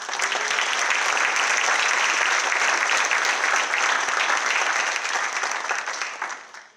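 An audience gives a sustained round of applause at a city State of the City event, loud and dense from the start and fading out toward the end.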